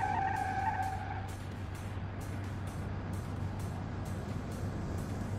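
A car drifting in the video game BeamNG, with a steady engine drone, a tire screech that fades early, and rhythmic bursts of skidding noise recurring through the clip.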